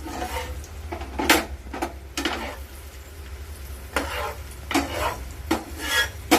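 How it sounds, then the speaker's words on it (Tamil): Raisins fry in a pan for payasam, with bursts of scraping and rubbing as a spoon stirs them against the metal, over a soft low sizzle, close by and moderately quiet. "இப்போ திராட்சை எடுத்து போட்டுக்கலாம். அது நல்லா பஃப் ஆகிற அளவுக்கு வறுத்துக்கலாம்."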